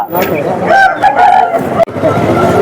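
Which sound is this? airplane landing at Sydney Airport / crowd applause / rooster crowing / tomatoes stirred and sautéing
rooster crowing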